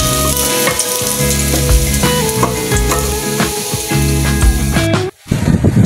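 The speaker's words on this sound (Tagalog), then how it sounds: "gisa na natin ang ating bawang" Garlic sautés in a hot pan for chicken adobo, a loud dense sizzle broken by repeated scraping and stirring strokes, cut by a brief near-silence before the frying resumes, with no voices.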